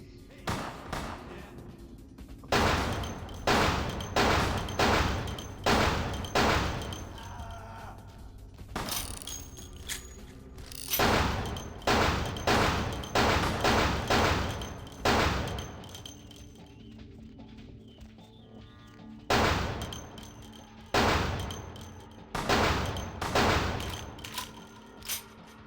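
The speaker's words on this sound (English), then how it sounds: "Because they're shooting at me." Gunfire in Vampire the Masquerade: Bloodlines, repeated bursts of loud shots in rapid clusters separated by short pauses, with a faint background hum between volleys.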